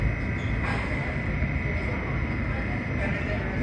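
A D subway train runs on the F line at Kings Highway toward Coney Island, giving a loud continuous rumble and rail roar with a steady hiss, heard close and unbroken throughout.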